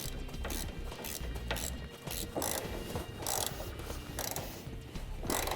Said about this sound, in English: we can take our wrench and finish tightening it down